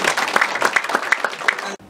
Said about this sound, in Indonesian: Tepuk tangan yang tulus untuk